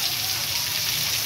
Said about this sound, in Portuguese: Olha só que toró, gente.